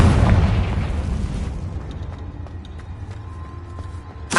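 A Confringo blasting curse in the Hogwarts Legacy video game lands as a loud, deep boom that rolls off into a rumbling decay, followed by scattered debris and mechanical rattles, with a sharp burst at the very end.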